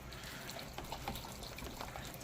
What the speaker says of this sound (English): And I hear the water boiling